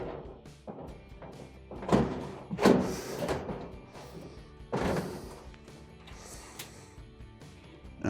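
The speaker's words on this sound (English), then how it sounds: "And now you want to lift up on the side and let the panel come forward." Front panel of an Amana dryer being lifted and pulled free, a few loud thunks and scraping rattles of sheet metal spread irregularly, close up.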